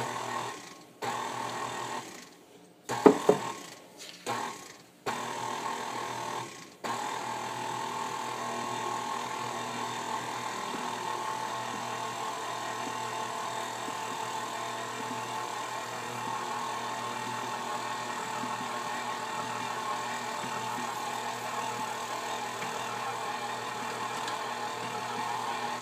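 An electric mixer blending pecan puff cookie dough starts with a few short stop-start bursts, then settles into a steady motor whir that continues close and even to the end.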